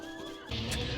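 A horse in Final Fantasy XIV: Heavensward gives a loud, close whinny, a wavering tonal cry that breaks into a rougher, breathy snort-like burst partway through.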